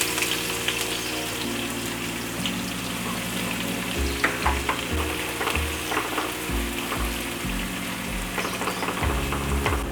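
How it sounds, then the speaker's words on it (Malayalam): Finely sliced onions fry in hot oil for biryani, a steady close sizzle with occasional stirring, over a low rhythmic mechanical hum that pulses in the background, no voices. "അതേ എണ്ണയിലേക്ക് നമുക്ക് ഉള്ളി വറുത്തെടുക്കാം."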